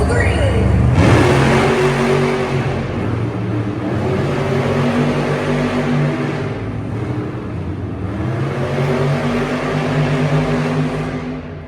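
Monster trucks rev their engines at the starting line of a Monster Jam racing round in an indoor arena, a loud continuous roar that surges and swells, with an announcer talking over it.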